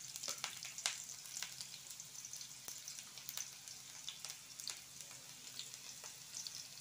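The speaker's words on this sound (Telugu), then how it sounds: "ఆనియన్స్ వేస్తున్నారు." Onions sizzling in hot oil for an egg fry, a steady faint crackle scattered with sharp pops and spits, heard alone at a modest distance.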